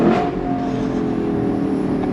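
Lexus LC500 Bespoke Edition V8 engine revving loudly and close, a dense steady roar with a brief higher flare at the start, no voices.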